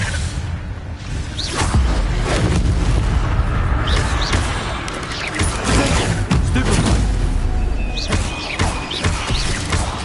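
An Incendio fire spell cast in a wizard video game, heard as a run of loud booming bursts and whooshing blasts that keep going over steady background game noise.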